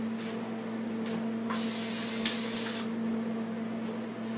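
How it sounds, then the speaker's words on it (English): A steady hissing burst of cooking spray onto a pan lasting about a second and a half, close and fairly loud over a constant electrical hum. "So let's move on to spraying our pan."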